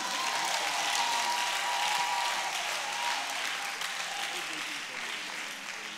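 A church congregation applauds and cheers in acclaim of Jesus, sustained clapping from a large crowd filling the space, gradually easing slightly toward the end.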